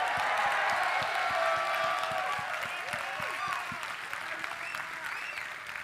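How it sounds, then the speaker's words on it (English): An audience at an esports event applauds as a player comes on stage, a steady wash of clapping with light cheering and crowd murmur that fades slightly toward the end. "Let's give him a warm round of applause."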